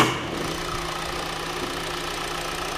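A 2017 Hyundai Elantra's 2-liter engine idles steadily up close, a low continuous hum with a faint rhythmic knock and mild vibration throughout, no voices.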